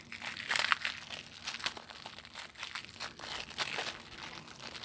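Plastic packaging around a roll of black tape is crinkled and torn open close by, giving a stream of irregular rustling and crackling for several seconds.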